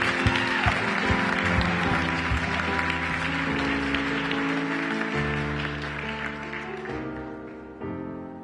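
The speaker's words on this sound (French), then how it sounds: "Est-ce qu'on peut lui donner une bonne main d'applaudissement à ce chant?" A church congregation applauds after a song, the clapping blending with sustained music that carries on underneath for the whole stretch, loud and steady, then dropping slightly near the end.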